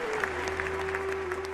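Brief, steady clapping from a crowd at a public gathering, with a constant tonal hum from the sound system running underneath.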